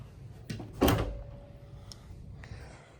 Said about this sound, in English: Our closet has double doors.